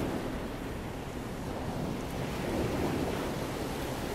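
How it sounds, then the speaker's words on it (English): Ocean surf rolls in and draws back out, a continuous broad wash of waves at moderate loudness with some wind-like rush, heard alone without speech. "imagine the waves coming in and going back out to sea"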